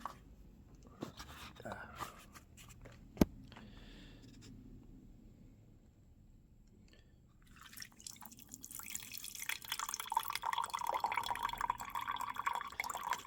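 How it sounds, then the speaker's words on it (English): Liquid drips and trickles through a coffee filter into a glass beaker, faint and sparse at first, then swelling into a busier splashing flow near the end, with quiet voices underneath. "I have a beaker here collecting the liquid portion."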